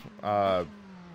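A race car's engine in the racing sim rFactor 2 at Longford 1967, heard from outside, rises in one brief, loud, tonal rev lasting about half a second, then falls away to a faint steady hum.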